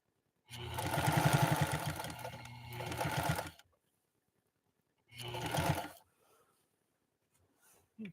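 A 1955 Pfaff 230 sewing machine stitches through six layers of heavy-grade denim in two loud bursts of rapid, even needle hammering, the first about three seconds long and the second shorter, separated by near silence.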